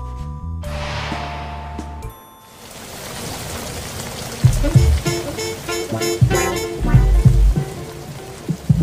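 Rain falls onto surfaces after a brief musical tone at the start, then grows into a dense patter with louder, irregular drops splashing close by.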